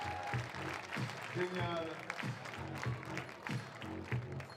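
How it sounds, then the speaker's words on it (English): An audience at a FIBA 3x3 women's basketball finals event in Orléans claps in a faint, distant patter, with an announcer talking over the applause. "Applaudissez bien fort."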